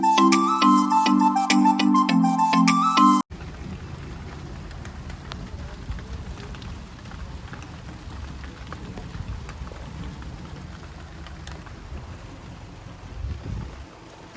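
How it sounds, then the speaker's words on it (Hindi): Steady rain falls at a brick kiln in bad weather, a continuous broadband hiss that follows a few seconds of loud music and carries on alone to the end, with a low rumble near the close. "बारिश आ गई है"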